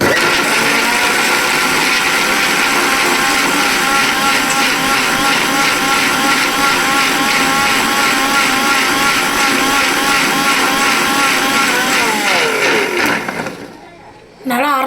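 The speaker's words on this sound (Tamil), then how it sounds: "இப்போ மிக்சியில் போட்டு அடிக்கிற வேலை தான்" A mixer grinder blends watermelon lemonade with a loud, steady whirring motor that runs nonstop for about twelve seconds, then winds down and cuts out near the end.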